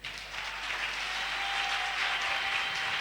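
A church congregation applauds for the Lord during a prayer service, sustained clapping that swells and holds steady, moderately loud, with no speech over it.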